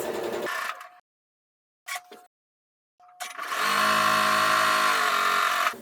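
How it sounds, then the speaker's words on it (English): A sewing machine stitching quarter-inch seams along diagonals on quilting fabric for half-square triangles: two short bursts of whirring with pauses between, then a longer, steady run of stitching, close and clear. "I'm just going to sew 1/4 inch on each of those diagonals."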